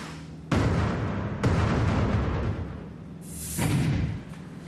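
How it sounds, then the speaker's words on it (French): A cannon built for impact testing fires a tiny aluminium fragment at a sample of space station hull: loud booming bursts, two close together, then a hissing blast, under steady background rumble. "Ils chargent un tout petit fragment d'aluminium dans un canon prévu à cet effet et le projettent à une"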